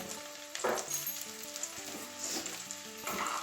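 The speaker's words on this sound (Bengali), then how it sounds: "আলুটা একটু লাল লাল করে ভেজে নেবো" Potatoes frying in oil for a Bengali cauliflower-fritter and egg curry give a steady close sizzle, with a few sharper bursts and light stirring scrapes over about three seconds.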